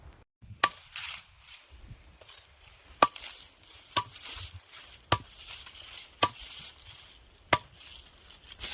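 Sharp, crisp cuts through grass stems being trimmed for planting fodder on a dairy farm, about seven distinct chops at uneven intervals, close and isolated against quiet rustling in between.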